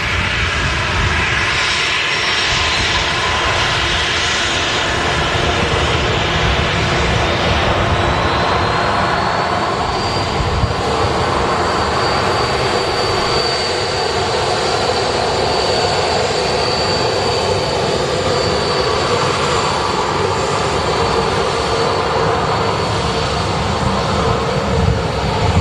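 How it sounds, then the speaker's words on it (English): A Ryanair jet airliner departs Manchester Airport for Copenhagen, its engines a loud, continuous roar with a rising whine that holds steady throughout, close and dominant with no voices. "Get this Ryanair out first. Flight to Copenhagen."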